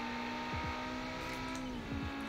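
A McLaren roars through a race in BeamNG.drive, its steady, close engine drone marked by a few brief dips in pitch as it pulls away.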